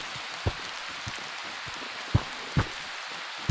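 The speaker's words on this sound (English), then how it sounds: "This is very heavy rain around us." Heavy rain in the video game Prologue: Go Wayward makes a steady hiss, with occasional louder drops or thuds landing close by.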